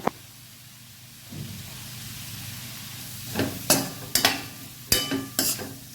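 Curry with ginger and chillies frying gently in a pan, a steady soft sizzle running throughout, joined in the second half by several sharp stirring or scraping bursts from a utensil against the pan, close by, with no talking.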